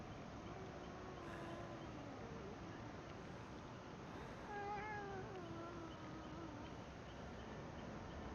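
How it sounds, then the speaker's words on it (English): A pet cat meows repeatedly indoors, a few drawn-out, wavering cries rising and falling over steady background hum, fairly close. "oh, my cat is not liking me right now"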